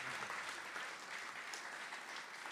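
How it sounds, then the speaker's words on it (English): An audience at an awards ceremony in Brooklyn Borough Hall applauds in an even, sustained wash of clapping, heard at a fairly low, distant level. "Let's give this block a round of applause."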